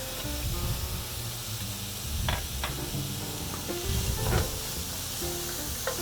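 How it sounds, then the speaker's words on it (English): Chopped onion fries in a skillet where meat was just browned, a steady close sizzle with a few brief scrapes of stirring and no talk over it. "We're frying onion."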